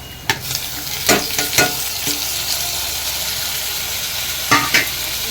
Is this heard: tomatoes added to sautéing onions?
yes